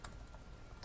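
A few soft, quick keystrokes on a computer keyboard as a router configuration command is typed into a terminal, faint and close with no voices.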